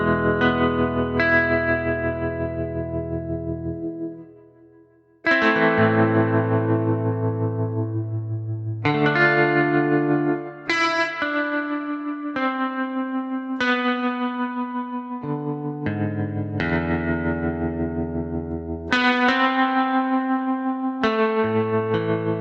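Desolate Guitar, an E-Instruments sampled guitar preset heavy with effects, plays a slow sequence of ringing notes and chords, each plucked and left to decay with chorus, echo and reverb, a brief near-silent pause early on before the phrases resume.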